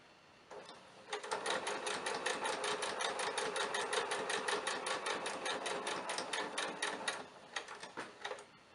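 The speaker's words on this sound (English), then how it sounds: "just keep sewing over the pins carefully until you get down to your mark" A sewing machine stitches down a centered zipper seam, running steadily at a fast, even stitch rhythm for about six seconds before stopping; close and clear with no talking.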